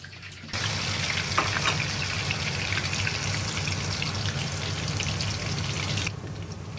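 Potato pieces deep-frying in very hot oil, a steady close crackle and sizzle that starts abruptly and holds evenly before dropping slightly at the end.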